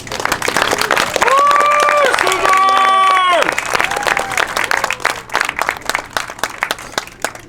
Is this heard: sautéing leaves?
no